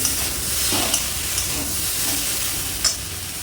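A Bengali parshe fish curry with brinjal and potato simmers and sizzles in a pan while it is stirred. Soft scraping taps sound over a steady, moderate hiss, with no voices.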